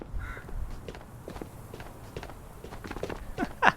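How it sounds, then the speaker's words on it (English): Footsteps outside in the VR shooter Ghosts of Tabor during a solo island raid: a series of soft, irregular steps at moderate distance over quiet ambience, ending with a sharper, louder knock. "Dude, what were those footsteps I heard"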